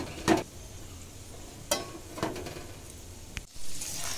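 Potatoes fry in a pan with a low steady sizzle, broken by a few sharp scrapes and clinks of stirring.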